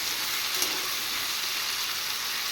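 Ridge gourd and potato with salt fry in hot oil with dried chillies, making a continuous, fairly loud hiss and sizzle with one small clink near the start.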